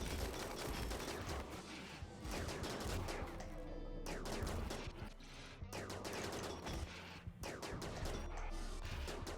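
Gunfire in the colony-management video game RimWorld, a dense continuous barrage of rapid shots and crashes during a base defence battle, loud and sustained with brief dips, no talking.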